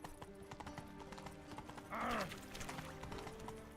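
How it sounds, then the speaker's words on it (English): Hooves clip-clop at a gallop as a horse runs in The Witcher 3, with a short whinny midway over faint game ambience. "Run, Roach. Come on, Roach."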